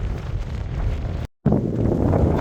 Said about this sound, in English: It's cold up here, man. And obviously windy.